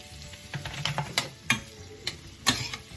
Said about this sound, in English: Go ahead and saute all of these.